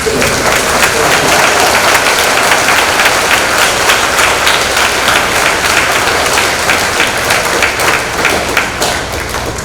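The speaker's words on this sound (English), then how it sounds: "So let's give them a round of applause." Loud, sustained audience applause at a school Veterans Day ceremony, dense rapid clapping from a large crowd continuing at full strength for nearly ten seconds.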